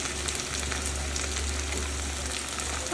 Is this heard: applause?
no